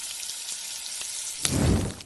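Local ghee hits hot mansaf made with jameed and breaks into a sudden, loud, crackling sizzle after a quiet start, close by and with no talk.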